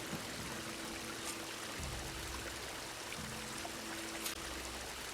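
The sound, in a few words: water flowing from pipe in video game Horizon Forbidden West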